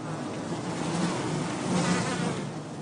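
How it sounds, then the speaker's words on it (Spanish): A dense, steady buzzing of a honeybee swarm moving together to a new home, continuous and close, with a low hum that swells slightly toward the end. "El enjambre sigue a las expedicionarias que lo conducen a su nuevo hogar."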